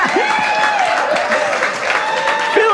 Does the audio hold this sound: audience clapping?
yes